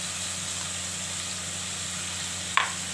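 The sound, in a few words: black mustard seeds sizzling in hot pan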